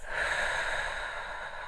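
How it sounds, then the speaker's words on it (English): During a yoga session, one long, soft breath is pushed out through the mouth and tapers off gently. It is close and quiet, with no talking. "Breathe in through the nose and breathing out through your mouth."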